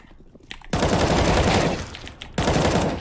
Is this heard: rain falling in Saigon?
no